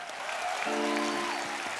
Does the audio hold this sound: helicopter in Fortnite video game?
no